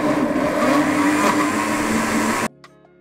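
A blender runs loudly and steadily as it purées sous-vide chicken livers with cream for a spread, then stops abruptly, leaving only a few faint clicks.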